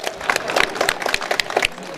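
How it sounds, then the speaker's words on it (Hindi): An audience at a mushaira in Mumbra claps for the poet Sameer Faizi, a brief patter of scattered, moderately loud handclaps with no voices over it. "एक बार ज़ोरदार तालियां समीर फैज़ी साहब के लिए"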